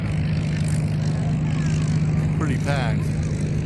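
Propeller aircraft engines drone steadily overhead at a World War II air show in Dallas, a continuous loud rumble with a tonal hum, as someone talks over it.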